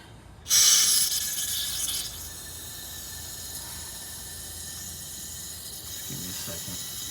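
Brake cleaner sprays from an aerosol can into the bowls of an Edelbrock 1406 carburetor on a 1962 Ford Thunderbird, making one loud hiss of about a second and a half, followed by a quiet, steady background.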